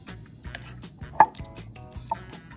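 Philadelphia cream cheese is worked around a bowl, giving a series of soft, regular knocks and scrapes at close range, with one sharper clink of the utensil partway through and no talking.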